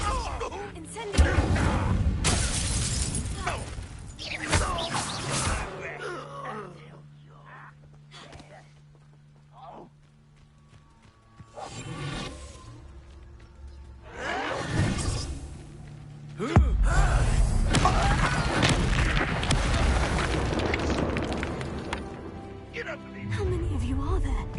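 An Incendio fire spell cast in combat in Hogwarts Legacy on PS5 erupts in loud, broadband whooshing blasts. Several bursts come amid other battle effects, with quieter stretches between them.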